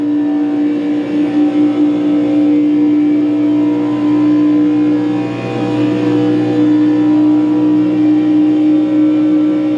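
A race car engine roars at about 183 mph on the Daytona track, heard from inside the cockpit as a loud, steady, high-pitched drone that barely wavers, with only a slight dip midway.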